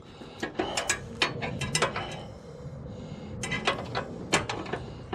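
Repeated ratcheting clicks from a wrench working a stubborn bolt with damaged threads on a Husqvarna mower deck, bursts of sharp metallic ticks with short pauses, close and fairly loud.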